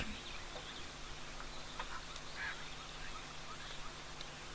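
Birds give goose-like honks at an African waterhole after heavy rain, with scattered calls rising over a steady outdoor hiss. The calls are moderately distant and there is no talking.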